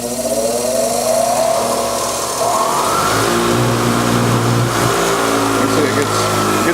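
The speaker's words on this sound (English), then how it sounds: "Really like this grinder. It's a pretty meaty one. It's got variable speed." A meaty battery-powered variable-speed grinder runs loud and close, its motor whine climbing and shifting pitch as the speed changes, a continuous mechanical drone.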